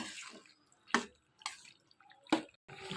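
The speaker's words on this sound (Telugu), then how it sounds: "ఇలా మొత్తం పాస్తా అంతా వేసుకుని ఇదంతా కూడా బాగా కలుపుకోవాలి" Pasta being stirred into sauce in a pan for a masala pasta, heard as a few soft, wet squishing and clattering bursts spaced apart, fairly quiet with no talking.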